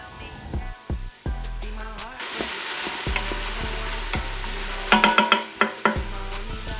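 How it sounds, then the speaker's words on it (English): Jalapeno with its seeds sauteing in an Instant Pot for chili: a steady hiss of frying under repeated spatula knocks and scrapes against the pot, close and moderately loud, with no talk. "And start sauteing that for about 5 minutes or so."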